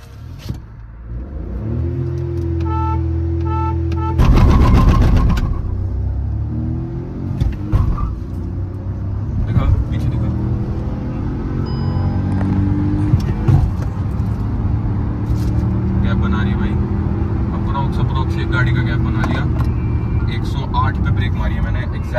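Hyundai i20 N Line and Baleno RS manual cars idling, then revving and launching in a drag race, with loud engine roar building and rumbling continuously from inside the cabin, with people talking throughout.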